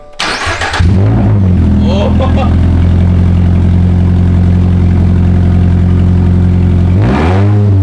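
A 2023 Toyota GR86 fitted with an AWE Touring Edition catback exhaust fires up with a loud roar, settles into a steady deep idle, then gives a sharp rev near the end, close by.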